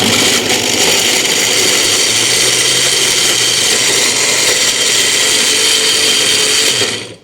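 A mixer grinder jar crushes ingredients in a small batch, a loud, steady whirring grind running continuously for several seconds before cutting off abruptly near the end.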